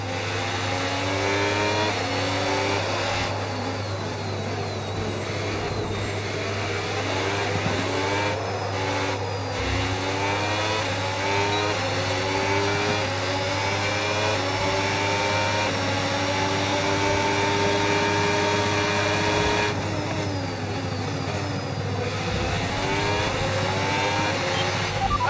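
Formula 1 race car engines in the F1 26 racing game scream continuously and loudly, their pitch sweeping up and down through gear changes and corners.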